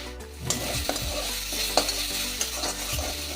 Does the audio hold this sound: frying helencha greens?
yes